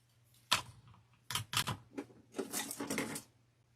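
Scissors snipping through wreath material to cut two holes, a few sharp crisp cuts in short bursts, close and fairly quiet with a low steady hum underneath.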